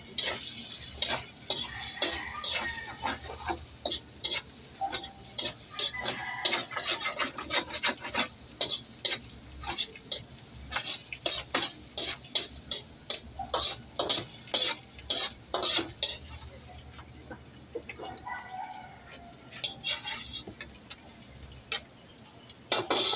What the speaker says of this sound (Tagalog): At dito ko na rin siya i-scramble.